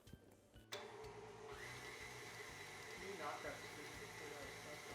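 An electric mixer switches on abruptly in a bowl of chocolate buttercream with heavy cream and keeps running as a steady, close motor whine with a faint rhythmic churning underneath.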